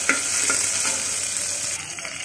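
Panch phoron spices and green chili frying in oil in a pressure cooker, a dense steady hiss of sizzling with a couple of faint stirring knocks, close and loud throughout, no talk.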